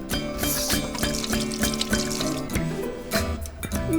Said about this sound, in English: Then wash those sticky fingers.